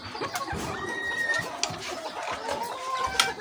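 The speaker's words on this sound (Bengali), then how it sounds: "এই মোরগ মোরগগুলো মারামারি করছে" Frizzle and Cochin hens and roosters, kept together on a hobby farm, cluck and squawk nearby while roosters scuffle, with a few sharp bursts and a crow-like call amid steady farmyard noise.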